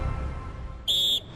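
A referee's whistle starts a Leeds versus Stoke City football match: a single short, shrill blast that cuts in sharply over low background noise and stops cleanly after about a third of a second.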